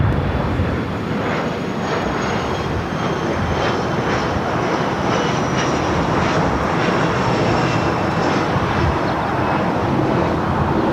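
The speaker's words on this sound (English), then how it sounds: "Southwest Airlines flight 2238, a flight heading to Chicago Midway on a 737 MAX 8." A Southwest Airlines Boeing 737 MAX 8 jet takes off at Los Angeles International Airport, giving a loud, sustained engine roar with a broad rushing noise that holds steady throughout, with no voices.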